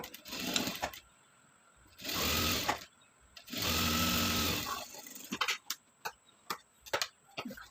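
A sewing machine stitches a four-tuck blouse in two sustained whirring runs, close and fairly quiet, separated and followed by sharp clicks and short mechanical taps as the fabric is handled.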